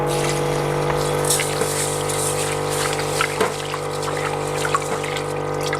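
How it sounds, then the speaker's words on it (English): Rice being washed with water in a camp cooking pot outdoors while making a Thai chicken salad, with continuous sloshing and trickling, a few louder splashes, over a steady low hum. "So I wash the rice, just one time of water is okay, and then rinse them off"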